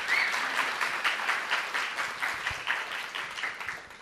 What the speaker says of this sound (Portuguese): Eu peço uma salva de palmas para as duas.